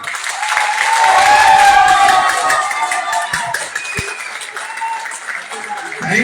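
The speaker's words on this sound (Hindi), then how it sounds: "ये पार्ट पहले ताली बजाएगा" A seminar audience at a wellness motivational session breaks into loud, sustained applause, many hands clapping together in a dense wash that swells and then gradually thins, with voices calling out over it.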